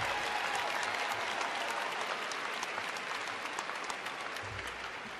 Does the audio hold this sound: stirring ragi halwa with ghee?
no